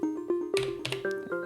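A second pluck patch on track 7 of an Elektron Digitone plays a short techno melody with crisp, percussive attacks and bright, breathy transients over fast-decaying tones.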